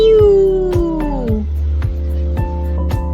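A single drawn-out meow slides downward in pitch over a rhythmic beat of background music.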